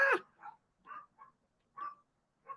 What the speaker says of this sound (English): And they're barking.